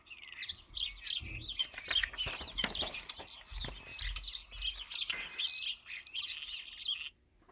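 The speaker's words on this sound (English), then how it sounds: "Starlings sing from a metal pole." Starlings sing from a metal pole in a dense stream of bright chirps, whistles and warbles, with some low rumbling knocks underneath, until the song cuts off abruptly near the end.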